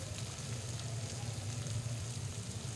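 Ground spices including turmeric, cumin, coriander and chili powder sauté in hot oil in a pan for a fish curry with eggplant and potato, giving a steady, close frying sizzle with no talking.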